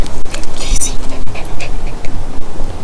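A muddy dog pants outdoors after a hike near Granger Peak, quick breathy panting close by over steady wind noise.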